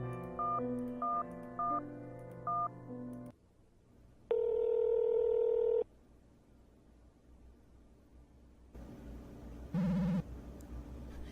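Phone dialing and ringing in the video game Replica: a run of evenly spaced keypad tones, then a long steady ring tone, a stretch of quiet line hiss, and a final buzzy ring near the end.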